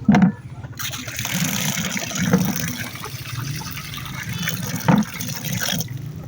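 Tap water pours steadily into a chicken drinker, a continuous close splashing trickle with a few faint thumps along the way, and no talking.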